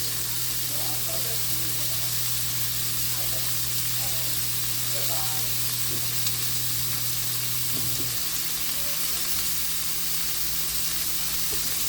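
Shrimp and sliced garlic frying in a pan for garlic paprika shrimp with mushrooms, giving a steady, close sizzle throughout, with faint background sounds and a low steady hum underneath.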